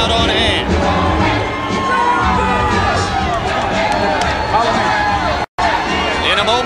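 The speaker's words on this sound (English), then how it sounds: "there is a sizable crowd on hand" Heavyweight boxing arena crowd before Evander Holyfield's bout, a loud, sustained roar of cheering and babble that briefly cuts out before resuming.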